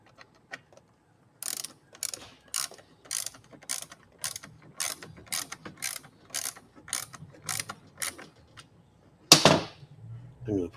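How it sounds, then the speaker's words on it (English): A screw is driven back in with a hand screwdriver: a run of about a dozen evenly spaced ratcheting clicks, close and fairly quiet, ending in a louder clatter. "So I'm going to put one of these screws back in."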